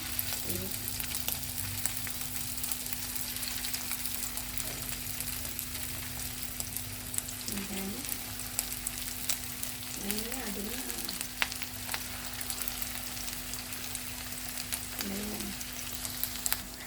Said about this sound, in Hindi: अब मैं इनको फ्राई करती हूँ।